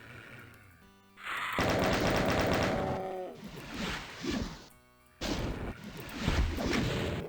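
Rocket launcher firing in the classic Doom video game, a burst of loud explosive blasts and crashes with whooshing rockets, followed by quieter impacts, then another loud blast near the end.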